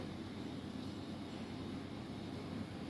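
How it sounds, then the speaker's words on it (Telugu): A mixie grinder runs steadily, grinding mint chutney for idli, a continuous dense whirring drone that holds constant for about three seconds without speech. "మిక్సీ కొట్టేసుకున్నాను అనమాట"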